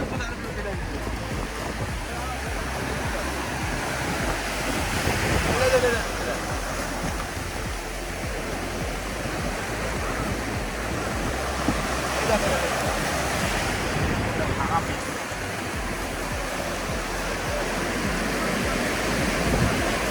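Sea waves break and wash ashore at a Chennai beach, a broad continuous surf roar with swells rising around the middle and later, close and fairly steady.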